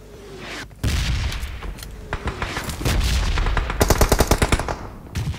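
Gunfire from two teams shooting at each other in a video game match: scattered single shots give way to dense, loud automatic bursts, ending in a fast, evenly spaced string of close shots.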